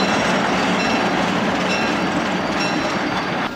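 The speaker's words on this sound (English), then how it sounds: "we are going to put a one-box car, I assume lumber or something like that, into the proper track right here for the lumber company" A Lehigh Valley Railroad train shunts a single boxcar onto a lumber company siding, a loud, steady close rumble of rolling wheels and rail clatter with no voices.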